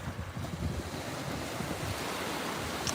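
Ocean surf rolls steadily onto the beach at Lauderdale-by-the-Sea, Florida, a constant broad wash of waves mixed with gusty wind buffeting the microphone, with no voices.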